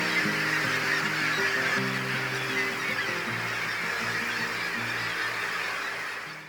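Seabird rookery on Gull Island in Kachemak Bay near Homer, Alaska, where kittiwakes, gulls, cormorants and puffins gather: a dense, continuous chorus of overlapping honking, squawking calls, loud and close, with no voices.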